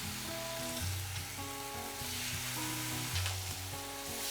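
Fish pan-frying in a home kitchen after being turned, sizzling steadily and fairly loud throughout, with a constant crackle and no talk; Portuguese-style pan-fried fish.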